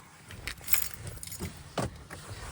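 Grenade-style key for a 2011 Ram 2500 Power Wagon pickup truck jangling on its ring, several light metallic clinks and rattles at close range, quiet, with no speech.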